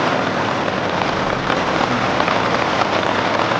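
Steady rain falls outdoors, a dense, even hiss of drops hitting surfaces close by, constant and fairly loud throughout with no voices.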